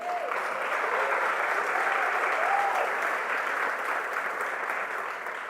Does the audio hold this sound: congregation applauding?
yes